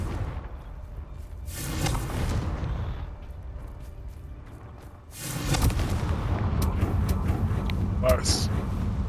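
Confringo fire-blast spell cast in the video game Hogwarts Legacy, heard as two heavy booming blasts several seconds apart over a dense rumbling game soundscape, the second leaving a sustained roar behind it.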